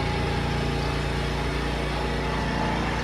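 A steady, continuous engine drone, like lawnmowers running outside, hums without a break, with a low buzzing tone and constant loudness throughout.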